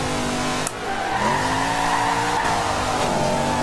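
A truck drifts in the Forza Horizon 2 racing game, its tires squealing in a long, sustained screech over a steady engine drone, with a brief sharp break early on.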